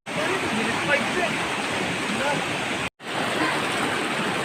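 River water rushes at a river crossing in a wild Indonesian gorge, a loud, constant broadband roar of flowing water, broken once by a brief cut.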